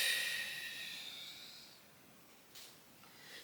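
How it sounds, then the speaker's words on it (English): A slow, deep diaphragmatic exhale during a postpartum breathing exercise, a long close breathy hiss that fades over a couple of seconds, then a short second puff of breath. "Take the breath from here, the diaphragm, and then exhale."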